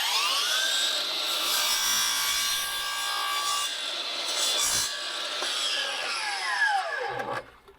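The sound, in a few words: sawing a bevel angle on skirting board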